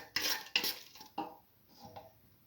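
Red lentil dal mixture being stirred and mixed in a pot with a metal utensil, giving three or four distinct scraping clinks followed by softer fading scrapes, no talking.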